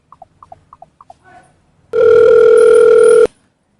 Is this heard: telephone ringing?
yes